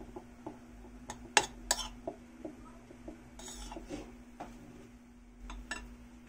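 Soy sauce fried rice stirred in a pan, a spatula scraping and clinking against the metal in scattered, uneven strokes over a steady low hum, with a few sharper knocks and no talking.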